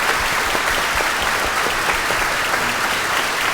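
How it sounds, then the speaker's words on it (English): An audience in the NVIDIA Auditorium at Malachowsky Hall claps steadily at a special event, a dense, even wash of many hands sustained for the whole stretch without letting up. "One more round of applause for Chris and Melody."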